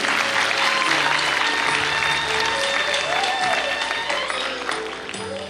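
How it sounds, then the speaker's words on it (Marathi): Audience clapping at a dance award ceremony where women dancers are being honoured, a dense, steady wash of applause running for several seconds with some tonal background sound and faint voices mixed in, easing off slightly near the end. "टाळ्यांचा आवाज कमी येतोय म्हणजे."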